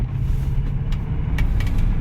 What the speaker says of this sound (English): You can just see the scenery pulling towards us as the car's hurtling down the road